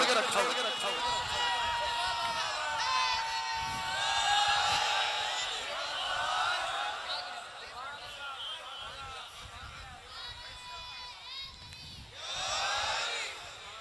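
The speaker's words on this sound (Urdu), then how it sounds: "دیکھو نعرے تو لگا رہے" A crowd of mourners at a Muharram gathering in an imambargah chants slogans together, rising and falling waves of many voices heard at a distance, with no single speaker standing out.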